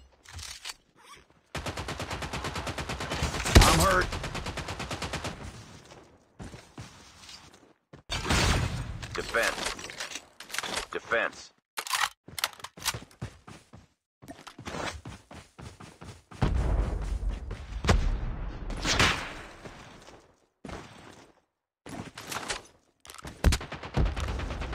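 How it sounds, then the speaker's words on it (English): Rapid bursts of FFAR1 rifle gunfire in a battle royale video game, with repeated automatic volleys and pauses between them, mixed with other game sounds. "Such great fire rate."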